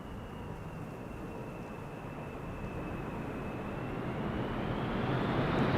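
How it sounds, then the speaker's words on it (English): A Singapore Airlines cargo aircraft arriving from LAX on approach to Schiphol's Polderbaan runway 18R, its engine roar a steady broadband rumble that swells gradually louder as it draws nearer, heard alone without voices. "Singapore Airlines cargo arriving from LAX"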